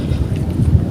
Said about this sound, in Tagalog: Kaso lumakas yung hangin mga kabuli.